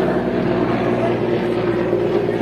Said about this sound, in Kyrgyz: Обшто вертолет учуп кетип атат тургандар